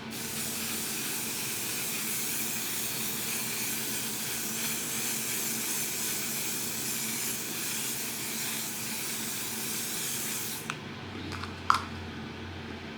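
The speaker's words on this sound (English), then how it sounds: "we're gonna shake it up really well, and we're gonna spray our face" A long, continuous aerosol spray hisses loudly and evenly for about ten seconds, then stops, followed by a couple of faint clicks.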